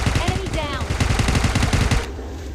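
Rapid automatic gunfire in PUBG Mobile Lite, a dense burst of evenly spaced shots lasting about two seconds before cutting off, loud and close with game sounds and a faint voice underneath.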